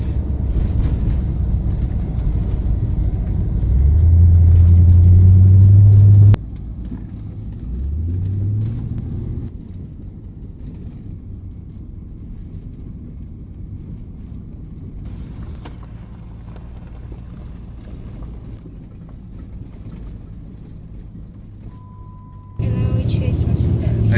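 A car drives along a trailer park detour with a steady engine and road rumble. It gets louder and a low tone rises early on, then the drone stays steadier and quieter after a sudden change.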